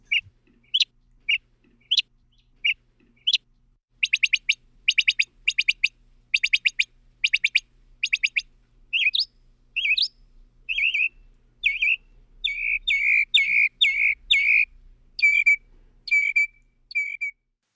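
A mockingbird sings alone in a varied, mimicking series of bright chirps, trills and rapid repeated phrases, with short pauses between bursts, fairly near and clear.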